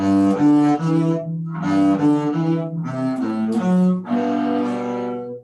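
Bass playing the last two bars of a warm-up excerpt, a short bowed-sounding melodic phrase of sustained notes rising and falling, played alone and fairly close.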